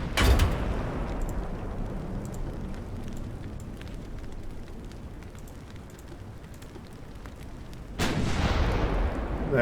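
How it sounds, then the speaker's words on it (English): Two heavy 9-inch naval gun blasts in Ultimate Admiral Dreadnoughts, one at the very start and one near the end, each a deep booming report. Between them a long rumbling wash of battle and sea ambience with faint crackles. "now we got our 9-inch gun firing"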